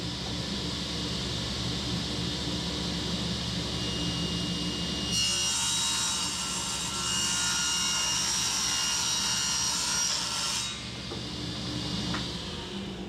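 Table saw ripping a black masonite sheet, a steady whirring blade note that turns into a louder, brighter cutting roar for several seconds mid-clip before easing back to the idling blade, close with no talk.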